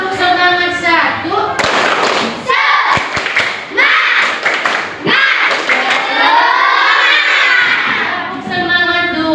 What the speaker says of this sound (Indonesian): Tepuk semangat 1.